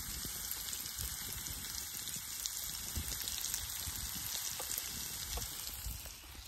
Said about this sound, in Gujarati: કારેલાનો સંભારો વઘારાઈ ગયો છે